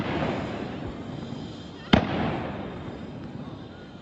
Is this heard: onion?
no